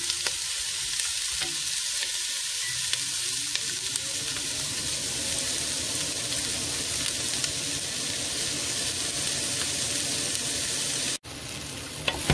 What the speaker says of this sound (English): It starts to get really good sauteed.